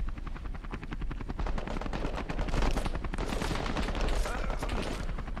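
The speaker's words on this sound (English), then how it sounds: "machine gun on the UH is very deadly" Machine gun fire from a UH helicopter during a Vietnam War embassy attack in Call To Arms, rapid sustained bursts over a steady rotor thump, loud and close throughout.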